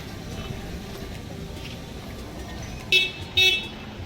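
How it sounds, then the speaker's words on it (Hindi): A car arrives on a hill road in Pithoragarh, Uttarakhand, with traffic rumble beneath and two short, loud horn toots near the end, while people talk in the background. "गाड़ी आ चुकी है"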